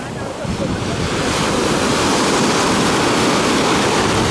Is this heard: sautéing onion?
no